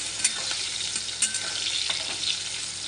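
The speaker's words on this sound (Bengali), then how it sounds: "অলরেডি আমি আলুগুলো ভাজতে লেগেছি" Potatoes frying in a wok, a steady bright sizzle with light stirring scrapes, close and continuous with no talking.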